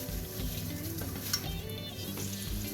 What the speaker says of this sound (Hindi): क्वार्टर कप के बराबर घी डालेंगे